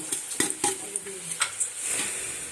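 Tripe being stirred with potatoes frying in oil in a pan, a steady sizzle under repeated scraping and clinking of a utensil against the pan, close and busy.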